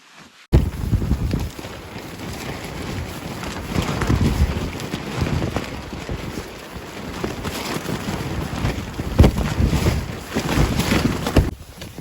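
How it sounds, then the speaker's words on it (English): Strong mountain wind buffets the microphone before sunrise at a campsite near a cluster of trees, a loud, continuous roar that surges in gusts with no voices. "it is really windy"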